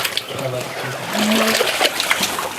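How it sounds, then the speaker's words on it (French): Water running through the stone channel of the Roman Gier aqueduct, a steady rushing splash and trickle heard close by, with someone talking over it. "Là, il y a de l'eau, il y a davantage d'eau."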